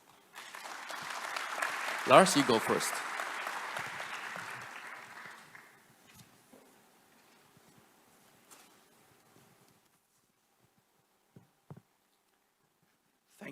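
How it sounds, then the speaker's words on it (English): A keynote audience at a container shipping conference breaks into loud, sustained applause for about five seconds, fading out as a speaker briefly talks afterward. "please join me in giving them a warm round of applause"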